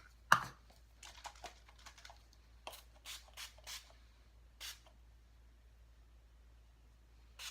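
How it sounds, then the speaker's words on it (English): Wet n Wild Photo Focus setting spray misted in a series of short, quiet spritzes, one sharper burst near the start followed by several soft puffs spaced out, close and alone. "we are going to use the Wet n Wild Photo Focus Setting Spray"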